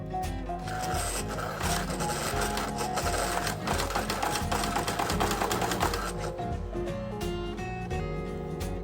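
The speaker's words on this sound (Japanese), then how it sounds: "内側のカーブの縫い方をやってみます。" An overlock serger stitching an inner curve in fabric runs in a steady, close, continuous mechanical whir with dense rapid needle chatter, alone without talk.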